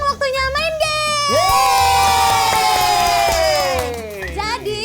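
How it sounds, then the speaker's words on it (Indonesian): A group of children at an online Easter Sunday school kids' club shouts "yeay" together, a loud rising cheer with whoops over a few seconds, preceded by brief adult voices. "Kita teriak yeay ya."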